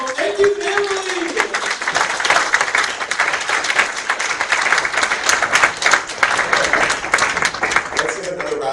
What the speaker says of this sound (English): Let's give another round of applause for our 2026 champion.